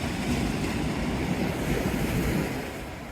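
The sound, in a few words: sea waves on the Teignmouth seafront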